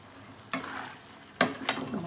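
Masala chicken fry being stirred in a pan, with a couple of spoon scrapes over a low sizzle, close and fairly quiet.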